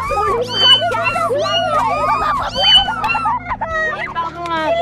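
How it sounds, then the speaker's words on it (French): Cats being thrown let out loud, repeated meows and drawn-out yowls that overlap one another, with people's voices mixed in among the cries. "Il lance des chats."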